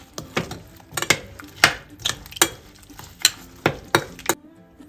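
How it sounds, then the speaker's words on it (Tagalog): A spoon stirs a sugar mixture in a bowl or pot with brisk, rhythmic scraping strokes, about a dozen of them, close and fairly loud, until the sugar dissolves. No one talks. "Haluin lang po natin mabuti hanggang sa matunaw yung asukal."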